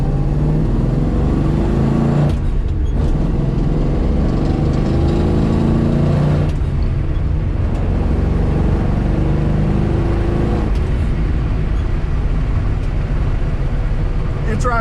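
A 1966 Ford Mustang Shelby GT350 clone drives along, its engine a loud, continuous droning rumble with a few brief dips and swells as the revs change.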